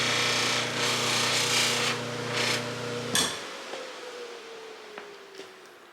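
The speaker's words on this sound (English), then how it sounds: "we should just be able to buff that up" A knife blade is buffed on a wheel without compound, making a loud steady whirring rub. The motor then cuts off and winds down, leaving faint scattered taps and scrapes.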